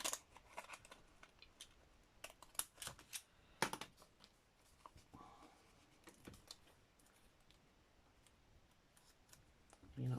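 Wavy-edged craft scissors snip through paper in a quick run of crisp, faint cuts, followed by quieter rustling. A short voice sound comes at the very end.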